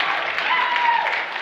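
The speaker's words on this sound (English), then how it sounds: "Y'all can give a clap." Brief clapping from a gathered audience, a steady moderate patter with no lull, heard alone.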